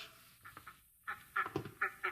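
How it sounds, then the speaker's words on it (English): Ducks quacking in an old-time radio drama, a series of short nasal quacks in irregular bursts, close but fairly quiet, with no voices over them. "Here are the ducks."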